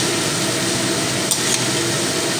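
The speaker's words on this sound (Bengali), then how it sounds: "দিয়ে আবার একটু নাড়াচাড়া করে নেব" Chowmein noodles stirred in a hot wok for a tiffin recipe, a steady close sizzle with soft scraping of the utensil and one brief clink near the middle, no talk.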